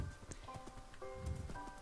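Hooves of a horse running downhill in Minecraft clatter faintly in quick irregular beats, with soft game tones underneath and no talk.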